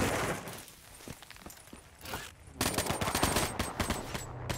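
Rapid bursts of automatic gunfire and single shots from a Call of Duty: Black Ops 3 multiplayer match, close and loud, with a quieter lull midway before a dense, sustained volley.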